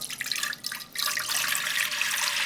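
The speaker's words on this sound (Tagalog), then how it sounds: "Banlawan natin ng tubig para hindi ma-overcook." Tap water runs steadily and splashes in a sink as freshly boiled lasagna sheets are rinsed, a broad close hiss that dips briefly and then continues unbroken.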